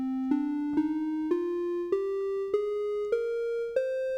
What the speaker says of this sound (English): But the minor key sounds like this.